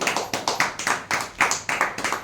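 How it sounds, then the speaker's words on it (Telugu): A church congregation claps hands together in praise during a Telugu worship service, a steady run of about ten bright, even claps close by with no voices over them. "అందరూ ఒకసారి చప్పట్లు కొట్టి దేవుని స్తుతించండి"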